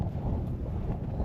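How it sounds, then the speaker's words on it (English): Steady wind buffets the microphone in a dense low roar outdoors in a blizzard, with no voices, continuous from start to finish. "You can tell it's windy out here."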